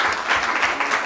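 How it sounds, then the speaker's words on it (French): Audience applause at an evening gala event, a brisk burst of many hands clapping with slight swells in intensity, fairly close and unbroken. "Un applaudissement s'il vous plaît"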